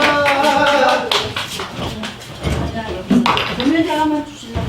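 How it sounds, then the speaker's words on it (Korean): Clapping at a 5.18 memorial concert as a local poet, Kim Young-ja, is welcomed. Scattered handclaps come and go under steady, prominent talk from a nearby voice. "이것이 힘찬 박수요. 박수 부탁드립니다."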